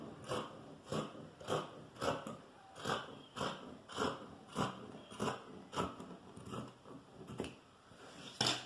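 Scissors snip through fabric for a puff sleeve band in a steady series of crisp, evenly spaced cuts, each a short sharp crunch, close and fairly quiet with no talking.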